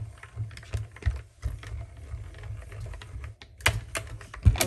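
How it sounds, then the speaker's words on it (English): A Stampin' Up mini Cut & Emboss machine, the Baby Boss, cranks a die through a paper sentiment, giving a close, steady run of sharp clicking and ratcheting taps with a few louder knocks. "I have my Baby Boss here, the mini Stampin' and Cut Emboss machine. And I'm going to put that die on our sentiment and run it through."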